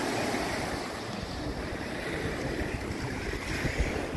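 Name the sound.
waves on a beach in Belém, Brazil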